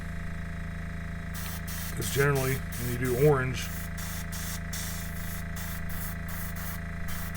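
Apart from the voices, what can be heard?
spray paint lightly misted onto a model car body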